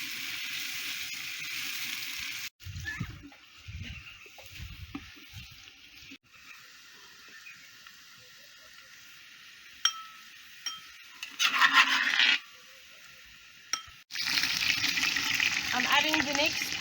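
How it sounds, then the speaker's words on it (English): Onions fry in a hot pot for South African potjiekos, a hissing sizzle at the start and end with stirring scrapes and clatter in between, and a person talking over parts of it. "So now I'm going to fry the onions and the meat."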